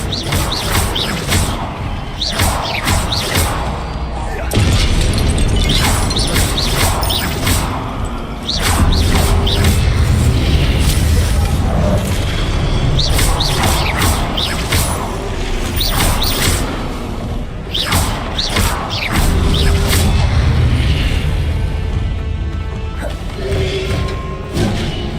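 Confringo spell explosions in the game Hogwarts Legacy: repeated loud blasts and crashing impacts with whooshes, coming in bursts over continuous battle noise, with no talk.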